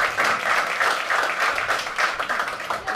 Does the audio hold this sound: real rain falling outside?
no